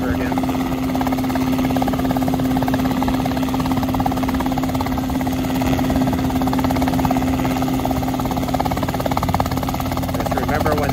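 A Rotorway helicopter hovers nearby and turns in place, its loud, steady rotor thrum and engine drone continuous throughout, with no talking heard.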